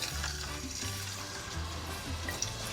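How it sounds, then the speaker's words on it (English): Potatoes frying in oil heated to 160 degrees for a Spanish omelette give a steady, close hiss and crackle with a low hum underneath, no talk. "once that's ready, then you put the potatoes in carefully"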